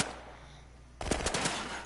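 Rapid gunfire in a video game, a loud sudden burst of automatic shots breaking in after a second of quieter game ambience, continuing close and dense to the end.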